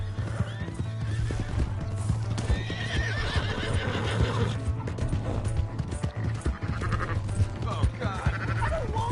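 Hooves clatter in a steady galloping rhythm alongside horse whinnies in Red Dead Redemption 2, with music and other sounds busy in the background.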